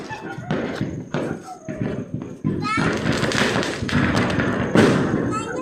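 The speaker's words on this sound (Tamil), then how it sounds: "ராக்கெட் இன்னும் வெடிக்கல" Diwali firecrackers and a rocket go off outdoors in a series of sharp thumps and bangs, close and loud, with children talking and shouting in between and over them.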